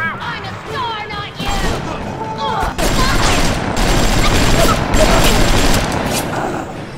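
Gunfire in the video game Bioshock bursts out in dense, loud volleys and crashes that continue steadily, with shouted voices heard over the shooting.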